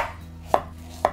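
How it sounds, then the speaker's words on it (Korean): Two crisp knife chops on a cutting board while slicing zucchini for tofu doenjang stew, evenly spaced about half a second apart, close and clear over a quiet kitchen background. "그리고 야채를 이제 썰어 보겠습니다."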